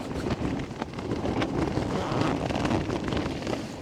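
Strong wind of about 40 mph at an exposed wild camp with a Nortent Vern 1 tent, a loud, continuous buffeting roar pressing on the microphone with no let-up and no speech.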